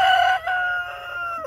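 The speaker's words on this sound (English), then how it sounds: "So let's go in here and let's feed these chickens." Chickens in a muddy backyard pen crowing loudly and close, with a long rooster crow and harmonic calls over soft clucking, no talk.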